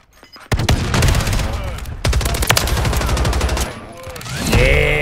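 Mini Uzi fire in a Call of Duty match comes as rapid continuous bursts with brief pauses, loud and up front, with other game effects layered underneath.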